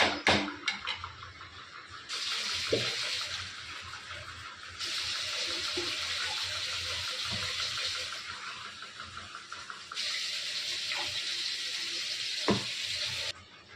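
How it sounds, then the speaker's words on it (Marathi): Water pours from a tap into a crab masala gravy in long, steady gushing runs that stop and start several times, with faint clinks between pours. "बघा आता मी पाणी वगैरे टाकलेलं आहे."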